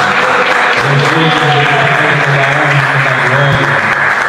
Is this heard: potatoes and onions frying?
no